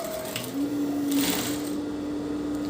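A sewing machine stitching a fall onto a saree edge, a fast steady motor whir with a sustained whine, close and alone for a few seconds.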